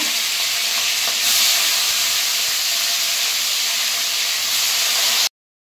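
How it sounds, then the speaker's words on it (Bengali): Loud, steady sizzle of rohu-type carp fish frying in hot oil, a continuous bright hiss with no talking, ending abruptly. "আমি এবার মাছগুলোকে ভেজে নেব"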